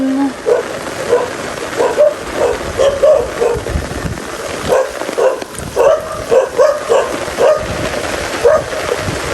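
Dogs bark and yip repeatedly in quick irregular bursts, moderately near, with people talking and rain-like background noise underneath.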